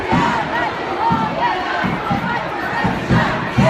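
A large crowd of protesters marches and chants together at a Black Lives Matter demonstration, loud rhythmic group shouting repeating in steady pulses with a busy outdoor background.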